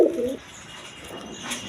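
A pair of Kaldam pigeons with crested heads coo once loudly and close at the start, then a softer coo returns near the end over a quiet background.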